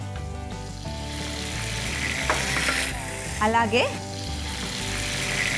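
Ginger, garlic and dried red chillies fry in a pan with a steady, close sizzle and a few stirring scrapes, while a voice speaks briefly and low music plays underneath.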